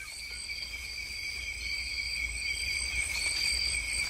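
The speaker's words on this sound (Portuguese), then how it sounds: "Um sapo assusta a abordagem da sussuarana." A steady, high-pitched trilling chorus rises from a frog or insects at night in the Brazilian cerrado, with continuous layered tones and soft background hiss and no voices.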